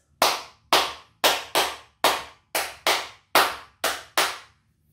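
Hands clap an ostinato tresillo rhythm, about ten crisp, close claps in a repeating syncopated pattern of uneven groupings, with no other sound.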